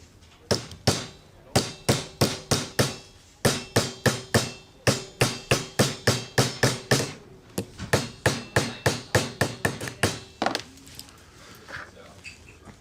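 A hammer bashes metal into a spoon-shaped hollow carved in a cherry wood block, about two dozen loud, sharp ringing blows in a steady rhythm that slows and fades toward the end.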